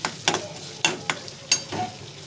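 Eggplant pieces tipped into home-made masala frying in a pan for a Maharashtrian vangyachi bhaji, then stirred, giving several sharp spoon scrapes and clatters over a soft, steady sizzle, close and fairly loud.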